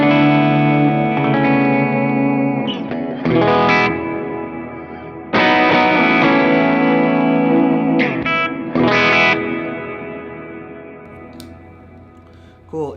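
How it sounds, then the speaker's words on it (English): A Line 6 Helix worship guitar preset runs through a double tank reverb, with sustained chords ringing out in lush, long washes that swell and decay between strums, bright shimmer trailing off at the end. "It's a great sounding reverb"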